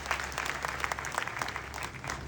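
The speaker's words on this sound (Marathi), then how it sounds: "ह्या तिन्ही महान हस्तीसाठी जोरदार जोरदार टाळ्या झाल्या पाहिजे" An audience gives a brief burst of fairly soft, continuous applause lasting a couple of seconds.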